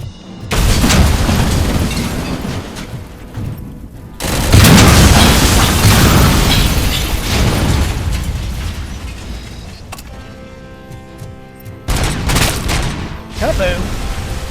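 Loud explosions in the action game RoboCop Rogue City, two big booming blasts with long rumbling tails, separated by a quieter mechanical stretch.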